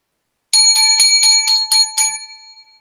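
A bright bell rung as a sound effect, struck seven times in quick even succession with ringing tones that trail off, loud and alone.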